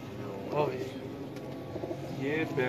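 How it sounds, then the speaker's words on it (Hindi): Prized old-line Salara pigeons in a loft in Gujranwala coo in a low, soft warble amid background murmur and nearby voices. "बहुत आला कबूतर है"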